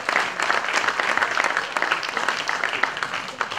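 A crowd at an event applauds the BACB and its president Roland Lafaille, brisk close clapping that stays strong and even throughout.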